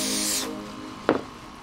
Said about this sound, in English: spray a little of the accelerator into the crack